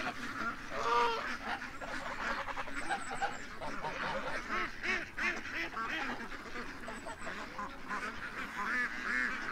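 A group of ducks, some wearing colored leg tags, quack and honk steadily in a dense, overlapping flock chorus close by, with brief bursts of other bird calls above.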